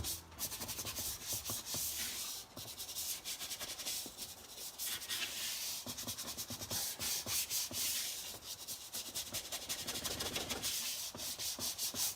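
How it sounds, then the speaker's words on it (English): Steady scrubbing of a Whirlpool dishwasher filter, a close, continuous rubbing rasp with brisk back-and-forth strokes running throughout without pause. "A little bit better scrub before I put that back in."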